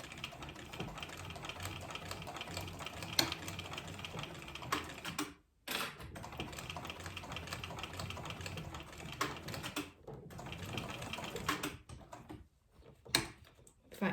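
A sewing machine stitches a tote bag with a steady, continuous mechanical chatter, broken by a few short pauses as the fabric is repositioned.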